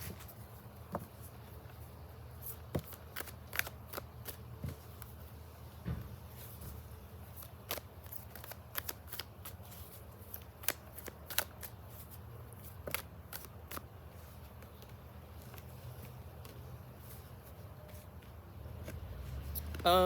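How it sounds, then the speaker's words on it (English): Tarot cards are shuffled quietly at close range in repeated short riffles and taps, scattered irregularly across a long stretch. "just got to shuffle a little bit more."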